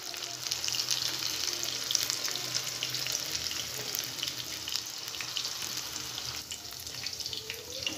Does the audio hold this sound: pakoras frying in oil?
yes